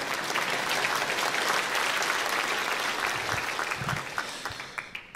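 Concert audience at the Forum Humanum Mazurkas event breaks into dense, sustained applause that stays loud and steady before gradually thinning out toward the end.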